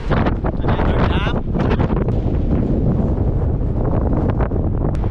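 Strong wind at Benmore Dam by a camping ground, roaring as steady, loud broadband buffeting against the microphone for the whole stretch, with no pause or lull.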